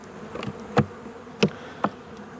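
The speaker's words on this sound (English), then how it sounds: "Now I'm going to give these bees a shake right into our" A faint steady buzzing of many honey bees shaken into a container hums throughout, punctuated by three sharp knocks or thumps.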